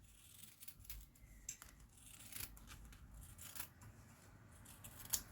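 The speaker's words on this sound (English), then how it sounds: "I'm just going to get my rectangle cut out as neatly as I can along the lines." Scissors cut a rectangle applique patch out along drawn lines for upcycled jeans, with quiet, close snips and slides of the blades repeating irregularly at low volume.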